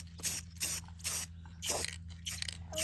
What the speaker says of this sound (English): what we're gonna do is just basically spray the entire top